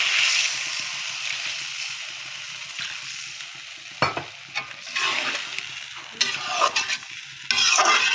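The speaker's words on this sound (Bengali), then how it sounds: "এবার আমি এই মাংসগুলো দিয়ে দিব।" Golden chicken pieces sizzle in a pot of spices for biryani while a spoon stirs and scrapes them in repeated bursts, with the frying hiss steady and close underneath.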